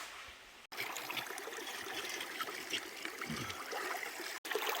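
Water runs in a bedrock creek among boulders, a faint, steady trickle and gurgle close by, with no talking.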